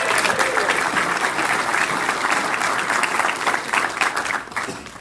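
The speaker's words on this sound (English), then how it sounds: "let's give Rolando a big round of applause" An audience at a magicians' convention claps loudly and steadily, a dense wash of applause that tapers off slightly toward the end.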